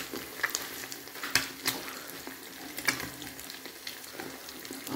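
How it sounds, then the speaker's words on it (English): Breakfast food fries in a pan, a constant close sizzle broken by scattered stirring clicks and pops, with no voices. "A little bit more frying."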